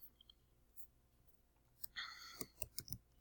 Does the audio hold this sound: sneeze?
no